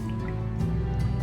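Water being collected in the video game Slime Rancher, a short liquid gurgle and dripping burble over a steady low game hum, lasting about a second.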